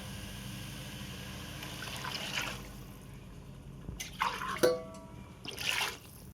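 Water trickles softly, then pours from a glass in a few louder splashing bursts into a cooking pot for biryani, with quiet gaps between them.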